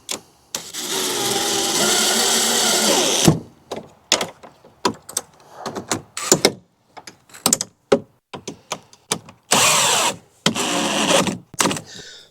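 A power drill snugs up bolts on a DECKED drawer system in the bed of a 2025 Ford F350: one long whirring run, then a series of short, sharp bursts with gaps between, fairly close and loud, no talking.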